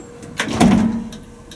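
An old Otis elevator door slides open in a single brief, close rumbling sweep with a low mechanical hum, which fades after about a second.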